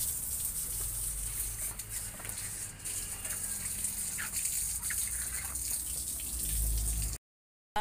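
Water gushes steadily from a tap into a basin, a continuous hissing rush that stays loud and even for several seconds before cutting off abruptly.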